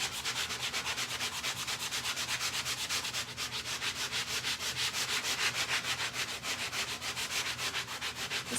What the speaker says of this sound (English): I'm just going to sand it down a little bit.